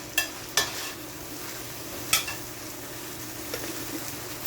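Vegetables frying in a pan for a Jamaican salt mackerel run down, a steady low sizzle with a few sharp scrapes and clinks of stirring at the start and again midway.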